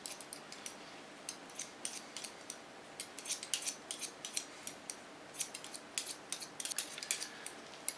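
Steady, quick snips of scissors point-cutting hair freehand, close and crisp, with irregular clusters of sharp metallic clicks over a soft background hiss.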